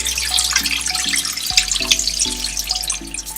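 Water runs steadily from a kitchen faucet into a sink as oxtail is drained, a continuous close splashing hiss with brief drips and clunks.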